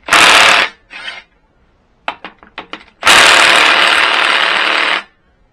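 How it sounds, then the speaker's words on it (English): An impact wrench on a low setting removes head bolts from a Briggs & Stratton overhead-valve engine, such as a Vanguard: loud buzzing bursts, a few quick clattering rattles, then a long sustained run, all close up with no voices. "you can do it with an impact, or a socket, I should say, and a ratchet, but you can do it with an impact"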